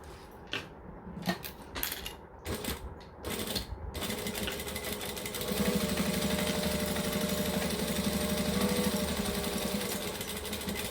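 A sewing machine stitches and back-stitches the edges of fabric for a hacked wench garment, opening with a few short bursts and then settling into a long, steady, loud whirring run with no talk.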